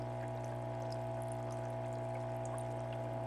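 Steady, even bubbling and churning of water in a heated foot spa massager, with a constant motor hum underneath, continuous and unchanging throughout.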